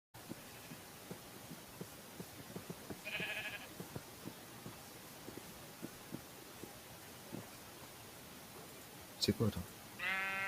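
Sheep bleat in the video game Minecraft, short bleats at a few points among soft clicking footsteps, while someone talks in French.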